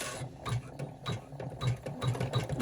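Embroidery sewing machine stitching a fabric wristlet key fob in the hoop, a steady close mechanical whirr with rapid, regular needle pulses, moderately loud and with no voices.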